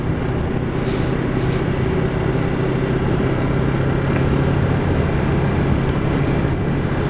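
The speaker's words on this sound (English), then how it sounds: "Got a lovely little growl coming from the exhaust." A Yamaha MT03 300cc motorcycle cruising in sixth gear at about 40 mph and 4,000 RPM, its exhaust giving a steady, close, low growl that drones on without a break.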